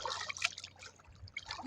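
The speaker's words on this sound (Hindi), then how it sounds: "ફૂલ પાણી ચાલુ હે એ બધા" Water flowing at a lake, a faint, uneven trickle with small splashes and drips that come and go over a low background hum.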